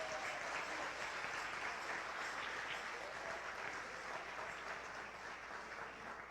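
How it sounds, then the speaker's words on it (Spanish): A church congregation at a Sunday service in San Juan, Puerto Rico, breaks into steady applause, a dense, even wash of many hands clapping that carries on for several seconds, fairly distant and soft. "Un aplauso a eso también."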